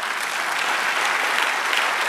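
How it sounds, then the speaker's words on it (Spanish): Sustained applause from a church congregation praising the Lord, a dense, even wash of many hands clapping together, loud and continuous throughout with no voices standing out. "Dar un aplauso al Señor."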